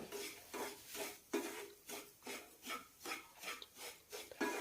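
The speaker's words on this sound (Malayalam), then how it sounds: "നന്നായി വറുത്തെടുക്കാം" Semolina and grated coconut roasted in ghee in a pan, stirred with a spatula in a steady rhythm of scraping strokes, roughly two per second, close and dry with a faint sizzle.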